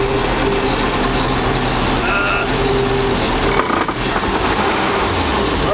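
A 1999 Chaparral 1930 SS boat's engine runs at a steady, loud drone, with a brief dip and clunk as it is shifted into gear, and the idle resumes unchanged afterward.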